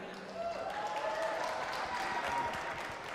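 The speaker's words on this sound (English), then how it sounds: "Can we get another round of applause for Leo Callahan, please?" Audience applause at a student pride event, a fairly faint, steady patter of many hands clapping together with some crowd voices mixed in.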